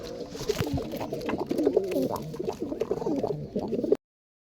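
A pair of pigeons, a Rampuri male and a Teddy female, coo nearby in repeated soft, rolling phrases, with the sound cutting out abruptly near the end.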